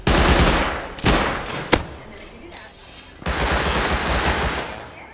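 SMG fire in a video game, rapid bursts of automatic shots cutting in and out, loud and close, with a sharp single crack between bursts.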